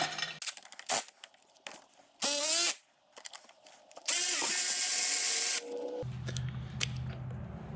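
A ratchet breaks bolts loose on a Honda 350D in a workshop, giving several sharp clicking bursts and longer loud whirring runs, interspersed with metallic clinks and brief pauses, all close and without talk.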